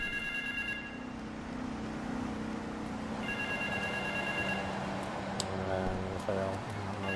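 A telephone rings inside the Grand Theft Auto III game world, heard as a steady repeating electronic ring over a continuous low background hum, moderately close, with no voice over it.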